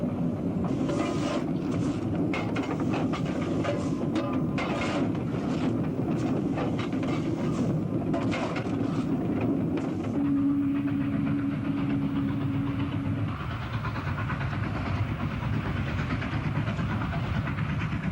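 A steam train on the Castlemaine and Maldon Railway rumbles steadily with clattering wheels and engine noise, fairly close, with a brief steady tone joining in midway before the sound eases off.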